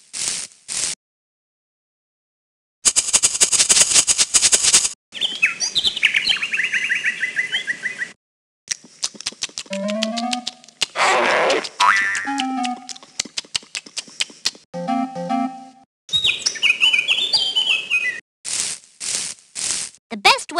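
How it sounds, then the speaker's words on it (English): Birds in the Adiboo: Magical Playland video game chirp and tweet in short, bright bursts separated by silent gaps, mixed with other cartoonish calls and jingles, fairly loud and close, with no speech over them. "The best way to make friends with the birds is to feed them."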